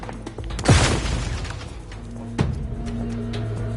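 An explosion in the video game The Outer Worlds 2 lands as a sharp, loud blast with a rumbling tail. A second, smaller thump follows a couple of seconds later over steady background game noise.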